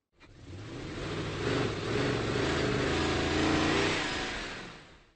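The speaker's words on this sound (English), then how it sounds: "monster truck" A monster truck engine in a children's construction-vehicle video game revs up smoothly and holds a loud, steady growl for several seconds before cutting off.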